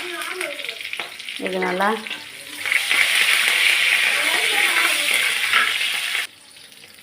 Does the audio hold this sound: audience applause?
no